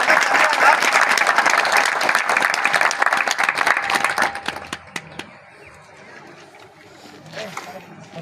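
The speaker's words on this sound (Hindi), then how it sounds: "तारकेश्वर सर के लिए एक बार जोर से तालियां" Loud, dense audience applause for Tarkeshwar sir, the third-place honoree at a National Safety Week award ceremony in Jamnagar, sustained for about four seconds and then tapering off.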